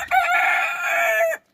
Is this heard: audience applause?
no